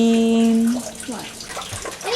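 A child splashes water in a bath, with sloshing and running water over a steady tone, close and loud, with bits of a voice mixed in.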